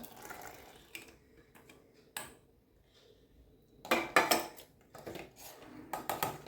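A spoon stirring caramelized sugar into milk in a pot for doodhpak: intermittent metallic scrapes and clinks against the pot, some louder clusters separated by quiet pauses, no talking.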